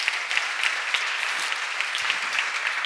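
A church congregation at a seminar claps in a continuous, crowded patter of many hands, with sharper single claps standing out now and then.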